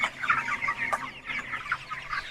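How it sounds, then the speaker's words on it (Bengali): Broiler chickens kept for rearing cluck softly in a pen, with a few short clucks and low murmuring calls over a quiet background. "ব্রয়লার মুরগিগুলো একটু অলস বেশি হয়ে থাকে"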